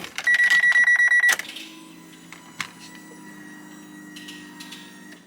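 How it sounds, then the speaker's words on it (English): A Ferrari's car alarm gives a rapid series of about ten sharp electronic beeps, loud and close, then a steady low engine-like hum with a few faint clicks. "The alarm."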